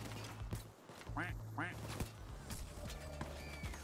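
Two quick quacks from a video game duck early on, followed by scattered clicks and thumps of game action with people talking faintly in the background.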